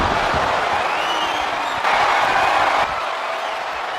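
A steady roaring wrestling arena crowd in the WWE 2K25 game, with a broad wash of cheering and applause that swells briefly in the middle before easing back.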